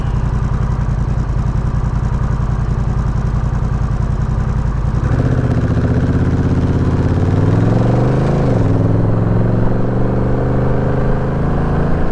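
A Honda Rebel 1100 motorcycle engine rumbles steadily, then its exhaust note rises and shifts as it revs and changes pitch while riding.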